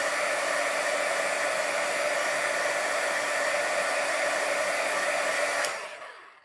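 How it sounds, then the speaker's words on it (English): A heat gun blows hot air to dry something, a loud, steady, close whoosh with a constant hum that runs evenly before being switched off and quickly winding down. "the heat gun. I'm going to heat this up and dry it off."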